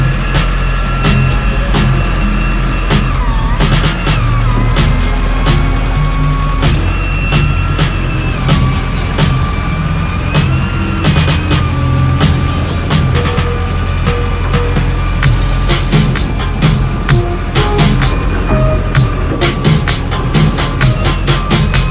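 A used tow truck drives along, with a loud, continuous engine and road rumble that holds steady for the whole stretch, joined by rattles and small bumps.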